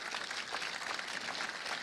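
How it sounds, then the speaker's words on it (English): A brief, faint burst of crowd applause at a startup demo day, an even wash of many hands clapping that holds steady for the whole moment. "Let's give them a huge round of applause."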